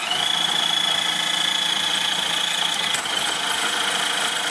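An HG P408 RC military Humvee with its electric motor revved at high speed, giving a steady, loud high-pitched whine that dips briefly once before continuing.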